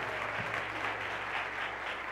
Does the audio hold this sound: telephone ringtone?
no